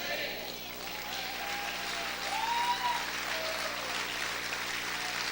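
A church congregation applauds loudly and steadily in a dense wash of clapping that holds across the whole stretch, with voices calling out faintly beneath it.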